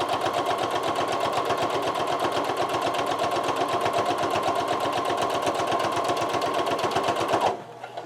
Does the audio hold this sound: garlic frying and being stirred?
no